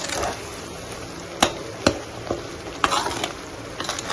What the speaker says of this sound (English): So I've added all the paste and giving it a nice stir